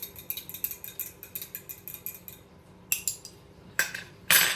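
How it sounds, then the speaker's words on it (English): A fork clinks rapidly against a bowl while beating freshly cracked eggs for brownies, a quick run of light metallic taps followed by a few louder clatters near the end. "using my fork, I'm going to beat the eggs"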